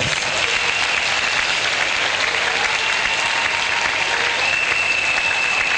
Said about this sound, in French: Sous vos acclamations, RLS